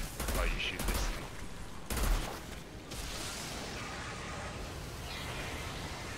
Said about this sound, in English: you can just use the minigun ability and just stand there while you shoot this thing